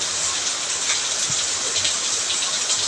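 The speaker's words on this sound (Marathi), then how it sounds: "अरे बापरे जास्त यायला लागला आहे पाऊस" Heavy rain pours steadily in a dense, continuous hiss of drops, loud and close, with no voices.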